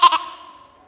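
A voice imitates a goat's bleat with one short, wavering, nasal cry that fades out within a second, close and clear.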